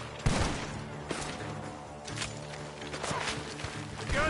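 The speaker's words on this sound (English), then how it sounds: "The gunshots are coming from that barn!" Video game gunfire from a barn: several sharp shots crack out at irregular intervals amid background movement and shuffling, fairly close and moderately loud.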